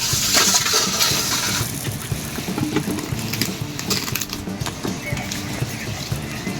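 Red lentils being rubbed and washed by hand in water, a continuous close sloshing and squishing with gritty churning, fairly loud, no voices.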